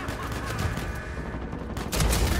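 Rapid bursts of gunfire in Uncharted 4 multiplayer, sniping gameplay, a dense loud fusillade of shots throughout with a heavier burst near the end.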